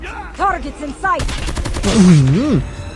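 An RPD light machine gun in Call of Duty Mobile fires a dense, rapid burst of shots, with an excited voice talking over the gunfire.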